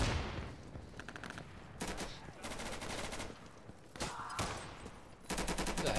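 Bursts of automatic rifle fire in the tactical shooter Insurgency, during a fight at the Embassy of the Russian Federation. Sharp volleys come in several separate bursts with short gaps between them, loud and close, and some talk sits under the shooting.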